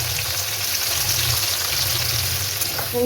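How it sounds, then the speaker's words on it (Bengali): Bitter gourd pieces frying lightly in hot oil with a little salt and turmeric, giving a steady close-up sizzle that runs without a break. "এবার এটাই আমি উচ্ছেগুলো হালকা ভেজে নেব"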